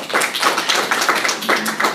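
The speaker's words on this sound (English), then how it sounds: "Now there was enthusiastic applause, wasn't it?" Applause from an audience in a lecture room, a short burst of dense clapping that stays fairly loud and even for about two seconds, with no voices over it.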